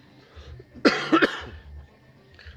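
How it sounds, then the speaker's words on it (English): A single short, harsh cough from someone with a chest infection, close and fairly loud, over quiet background murmur. "Excuse me coughing"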